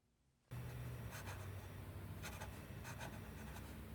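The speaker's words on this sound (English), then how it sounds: "let's take a look at the first writing sample done on Clairfontaine" A fine-nibbed fountain pen filled with De Atramentis Artist Ink Violet scratching across smooth Clairefontaine paper, a faint, close, continuous rasp with small strokes and lifts.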